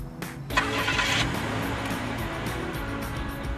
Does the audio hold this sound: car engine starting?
yes